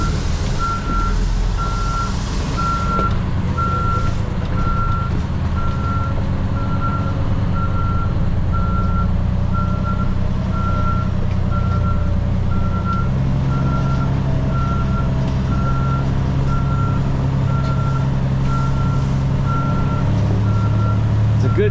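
A road-repair truck backs up on a gravel road in Nova Scotia, its reversing alarm beeping steadily and evenly over a constant low engine rumble throughout.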